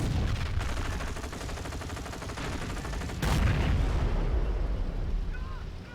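Dense battle din from Company of Heroes, with rapid machine gun bursts layered over booming explosions and rumbling artillery, continuous and loud throughout with a heavier blast swelling partway through.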